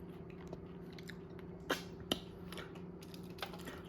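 Crunchy Japanese dynamite mushrooms being chewed close to the mic, with a few sharp crunches among soft steady chewing over a low background hum.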